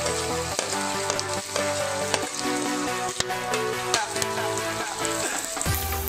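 Chopped large onions sautéing in hot oil with fried spices for a vegetable pulao, a loud, steady sizzle and crackle close up with occasional stirring clatter and no talk.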